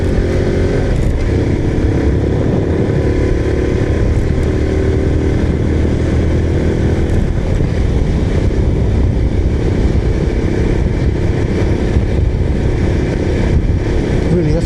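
A small 90cc motorcycle rides along with gear shifts, its engine droning loud and steady from start to finish, close to the listener, with wind and road noise mixed in.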